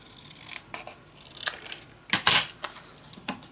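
Scissors snip through patterned paper for a handmade Halloween mini album, a quiet series of short crisp cuts and rustles with one louder burst of paper crinkling near the middle.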